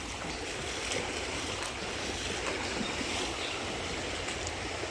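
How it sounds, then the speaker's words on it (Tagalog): Continuous rushing wash of a strong river current flowing, a steady dense hiss with no breaks, moderately loud and even throughout. "Grabe ang agos dyan."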